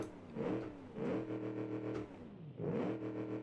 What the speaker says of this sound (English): it sounds like a muscle car from the 70s